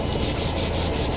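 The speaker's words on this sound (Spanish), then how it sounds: "podemos agarrar una lija de 1000 y si hay algún borde o hay algún raspón, lo que vamos a hacer es lijar muy despacito" Sandpaper of 1000 grit rubs slowly and steadily over a leather car steering wheel, a continuous close, even scratchy hiss with light rhythmic strokes and no talking.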